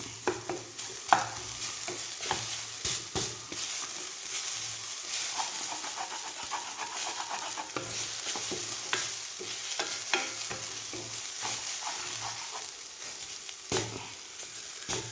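Steady scraping and stirring of grated coconut roasting in a new clay pot, with a continuous soft sizzle, repeated spoon knocks and scrapes throughout, close and moderately loud, no talking.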